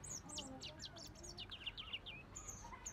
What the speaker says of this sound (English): This robin is so tame.